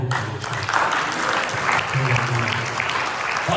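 Church congregation applauding during a sermon, a continuous wash of clapping from many hands throughout, with faint voices mixed underneath.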